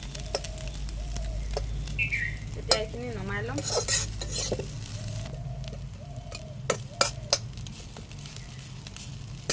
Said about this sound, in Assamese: ধুনীয়াকৈ শুকান শুকানকৈ ভাজিছোঁ